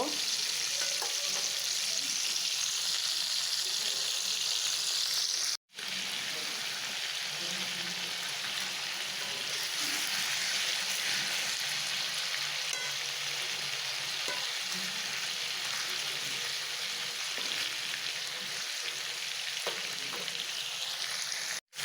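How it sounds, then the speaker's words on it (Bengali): Tomatoes frying in hot oil, a long, steady close sizzle and crackle with soft stirring scrapes, unbroken except for two brief dropouts, with no talk. "আমি দিয়ে দিলাম তেলের ভিতরে ভাজার জন্য টমেটি লাল লাল করে ভেজে নিব"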